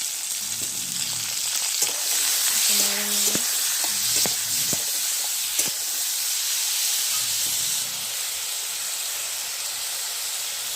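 Potatoes and bay leaf sizzle steadily in hot oil with panch phoron and green chilli for a potato-pea curry, a constant broadband frying hiss broken by a few soft clinks and stirring scrapes, with no talking.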